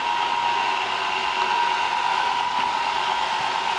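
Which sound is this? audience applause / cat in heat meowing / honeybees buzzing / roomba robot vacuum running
roomba robot vacuum running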